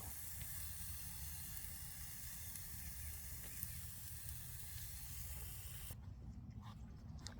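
Foil-wrapped fish sizzles on a grill beside a resting steak, giving a steady, faint, close hiss that runs without a break and then drops away near the end.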